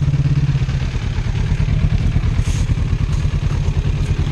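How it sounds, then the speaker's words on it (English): A Kawasaki Ninja 300 motorcycle engine runs steady and loud up close, with a low, even pulsing rumble and a few small rises in revs. "So it's time for me to ride the Ninja 300 now"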